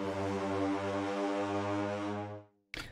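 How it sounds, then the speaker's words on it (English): Sampled brass horn note from the Sound Iron Brass Ensemble library, a single sustained, rich, buzzy blast held for about two and a half seconds before fading, then a brief sharp burst at the end. "The horn sounds like this, by the way."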